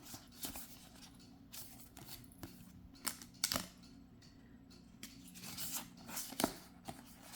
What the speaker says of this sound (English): So I'm going to have to shuffle these